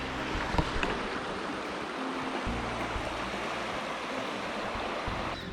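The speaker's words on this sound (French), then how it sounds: "Donc là on arrive au bord de la rivière." A river flows steadily beside a hiking trail in the French Basque mountains, a continuous close rushing and gurgling of water with no voices.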